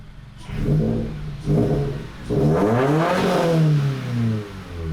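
Subaru BRZ flat engine fitted with a JDL 4-2-1 header, warmed up and revved in a few short blips followed by one longer rev that rises and falls, loud and close, with no talk.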